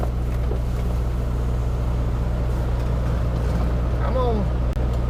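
A semi truck backs under a trailer to hook up, its diesel engine droning loudly and steadily close by with a low rumble throughout, a faint squeal near the end, and someone briefly speaking over it.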